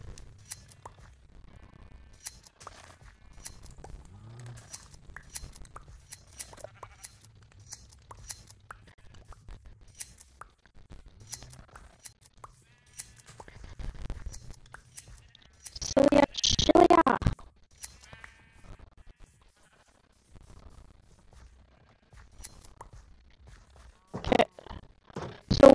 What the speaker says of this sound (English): shear the sheep time.